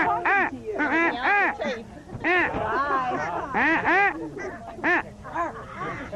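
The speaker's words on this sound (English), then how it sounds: "I'm being heckled by a bird." A bird squawks loudly and insistently, a rapid run of harsh, quacking cries in clustered bursts, close and alone with no voices.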